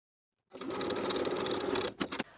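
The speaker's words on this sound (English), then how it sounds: "Sew the short center front edge with a 5/8 inch seam allowance." Sewing machine stitching a short drawstring seam for a jumpsuit, a close, steady mechanical whir that starts abruptly and runs for about two seconds before slowing with a few final clacks.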